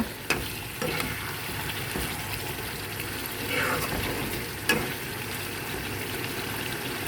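Chicken fries in a pan while being turned over, producing steady loud sizzling broken by sharp clanks of a spoon against the pan, with no talking.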